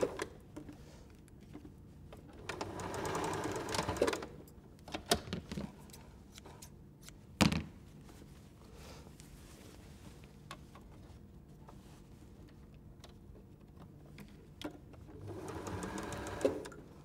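A sewing machine whirs in short bursts of stitching a tote bag, separated by quieter pauses with small clicks and handling noises; one sharp clack stands out midway as a pin catches underneath.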